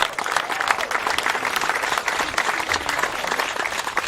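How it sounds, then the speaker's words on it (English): A crowd at a Los Altos halftime show claps for the booster club, a loud, continuous wash of many hands beating unevenly throughout, with no talking over it. "So let's give them a round of applause."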